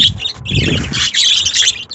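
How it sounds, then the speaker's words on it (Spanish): Budgerigars chirping in an aviary, a busy overlapping chatter of bright tweets and squawky calls, close and loud, with a soft low rustle underneath. "Miren qué hermosos pericos."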